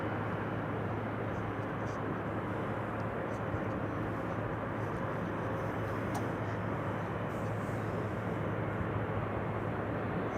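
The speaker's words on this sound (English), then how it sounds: "Next up is going to be from Southampton, an Embraer" An Embraer 175 airliner from Southampton arriving at Amsterdam Schiphol gives a steady, continuous broadband jet roar with a low hum, moderately loud and unbroken throughout.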